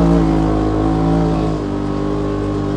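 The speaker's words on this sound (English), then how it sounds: "you can really hear that engine sing now." A 2018 Polaris RZR XP Turbo engine with a dual-outlet muffler drones loudly and steadily near by, holding a sustained high rev with a slight drop partway through.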